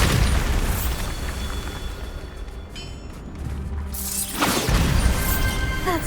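Bombarda spell blasts in Hogwarts Legacy, a dense rumbling explosion with crashing debris at the start, a brief lull, then another burst and crash near the end.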